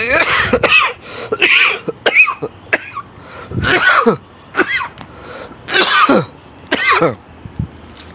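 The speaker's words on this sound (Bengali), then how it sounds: "আবার 2 দিন ধরে কাশি" A person with a cold coughs repeatedly in short, harsh bursts, roughly a dozen spread over several seconds with brief pauses between them, loud and close with no other sound around.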